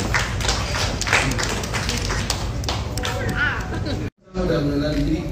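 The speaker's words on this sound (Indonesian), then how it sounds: "Kita berikan tepukan yang borong." Audience applause at a Malaysian press conference for a concert, a loud steady clapping that breaks off abruptly near the end, with chatter mixed in.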